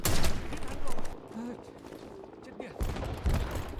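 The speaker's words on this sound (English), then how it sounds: "I just heard a grenade." Heavy explosive blasts boom in an online shooter game, with loud rumbling bursts at the start and again near the end, separated by a quieter stretch of muffled battle noise and faint voices.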